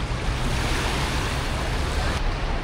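Sea waves wash onto a beach in Vietnam in the morning, a steady loud roar of surf and wind that fills the whole moment without a break and carries no voices.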